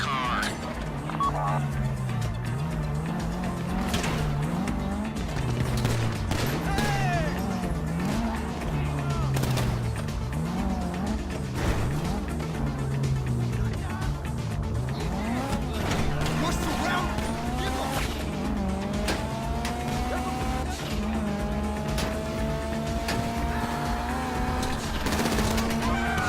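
A car driven in GTA Online during a bank heist setup, engine droning steadily with occasional tire squeals, under continuous game music and talk.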